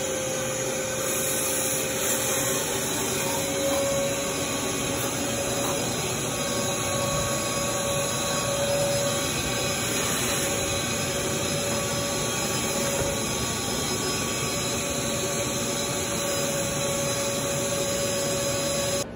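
A steady, loud vacuum roar with a whining hiss of air being sucked through a long hose attachment inserted into drilled holes in a Carolina Skiff boat hull suspected of holding water, running continuously without a break.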